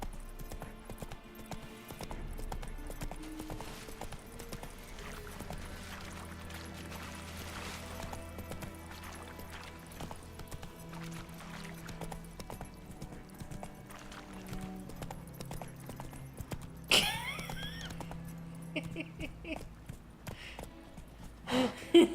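Hoofbeats of Roach, the horse in the Witcher 3 video game, clip-clop steadily at a gallop over game music, with a brief whinny-like burst near the end.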